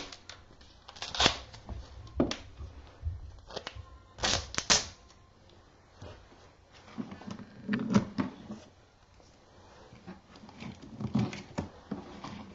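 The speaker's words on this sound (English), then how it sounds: "let's just tape either end down to the box again" Duct tape pulled and pressed onto a solar battery box, several bursts of ripping and crinkling tearing sounds at close range, separated by quiet pauses and soft handling noises, with no talking.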